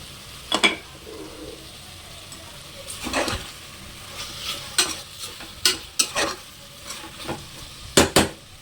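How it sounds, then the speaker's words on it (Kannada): Tomatoes sizzle softly in a pan as a utensil stirs and scrapes against it, giving a string of sharp, irregular clinks over the quiet frying. "ಟೊಮೆಟೊ ಫುಲ್ ಸ್ಮ್ಯಾಶ್ ಆಗೋವರೆಗೂ ಬೇಯಿಸಬೇಕು"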